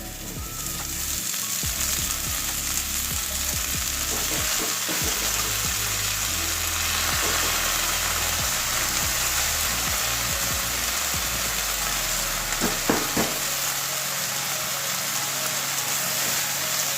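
Washed red amaranth leaves go into a pan of potatoes and eggplant, setting off a steady loud sizzle and frying hiss, with scattered soft clicks and stirring scrapes throughout.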